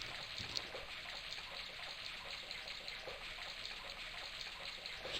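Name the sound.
running faucet water in the video game Broken Sword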